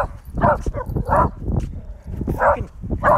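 Several sharp dog barks in quick bursts, close and loud, with rougher yelps between them and some outdoor background noise.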